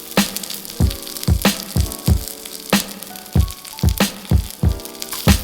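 Asparagus sautéing in a hot pan for a lemon-braised dish: loud, close crackling sizzle broken by a rapid series of sharp pops and spatters roughly every half second.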